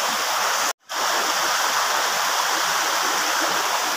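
A forest river streams past in a loud, steady rushing flow that fills the whole stretch, with only a short cut near the start and no voices.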